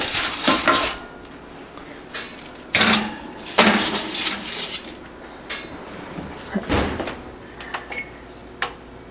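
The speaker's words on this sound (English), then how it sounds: "Alright, potato, let's go right in the oven." Metal pan of potatoes set for roasting slid into a home oven, with clanks, scrapes and a rack rattling in several sharp bursts, close and fairly loud, with no talking.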